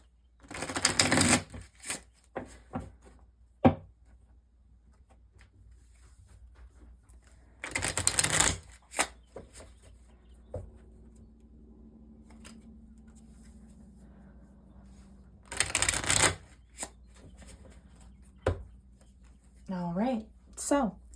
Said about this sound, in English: And then we'll go bridge shuffle again just to be safe.